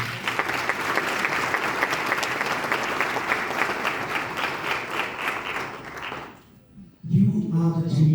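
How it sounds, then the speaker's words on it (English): Sustained audience applause at a diversity and inclusion conference, dense steady clapping from a large crowd for several seconds, then fading out before a voice resumes speaking near the end. "A round of applause for them."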